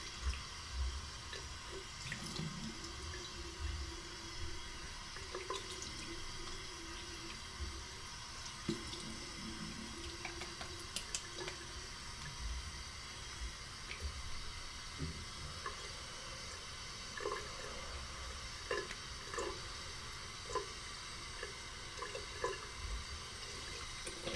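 Cold tap water running steadily into a bathroom sink after a shave, a soft continuous splashing stream with scattered drips and small clinks, fairly quiet and close.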